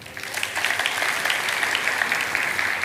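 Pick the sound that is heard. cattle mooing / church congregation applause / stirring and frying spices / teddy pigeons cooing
church congregation applause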